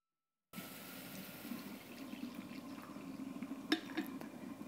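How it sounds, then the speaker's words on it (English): Brewed coffee pours from the glass carafe of a Mr. Coffee drip coffee maker into a cup, a steady, soft trickle of liquid that continues for several seconds with faint clinks near the end. "let's pour our coffee"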